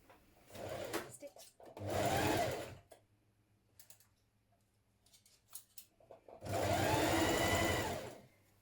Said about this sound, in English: So I'm going to stay stitch mine just to keep it from shifting